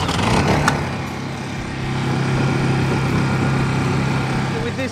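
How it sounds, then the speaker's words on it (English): A Honda EU10i portable generator runs near a battery charger, a steady mid-pitched engine hum that holds constant and fairly loud for the whole stretch. "This generator running at the moment, a Honda EU10i"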